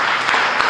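Congregation applause at a Friday church service, a dense, steady wash of clapping hands that fills the whole short moment without a break.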